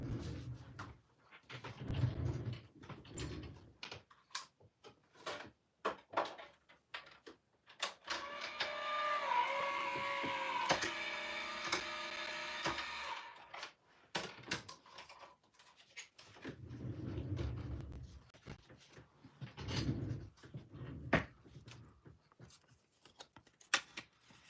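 A card embossing machine runs for several seconds, a steady mechanical whirring with rhythmic grinding ticks, close and fairly quiet, framed before and after by handling noises and brief clatter.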